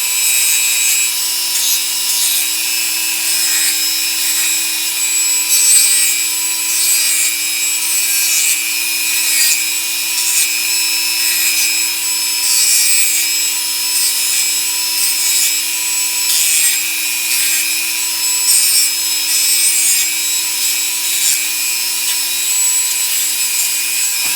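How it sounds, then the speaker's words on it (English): A Dremel fitted with a sanding drum grinds down a nail while a SnapBow is built, giving a continuous high whine with a steady pitch and a gritty rasp that runs loud and unbroken throughout. "you can take your Dremel one more time and your sanding drum, and you can just sand that down a little bit"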